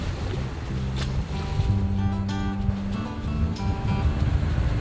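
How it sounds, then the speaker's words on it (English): A river cruise boat moves along the water in Turkey with a low, steady engine drone and wash, plus faint wind and scattered background sounds. "So it looks like this boat cruise we are going out on the river instead of out to sea."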